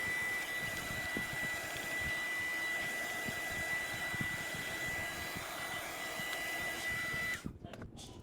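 A hair dryer blowing steadily on a painted violin craft piece, a loud, even close-up whoosh that cuts off near the end, leaving a brief quiet with a couple of soft knocks.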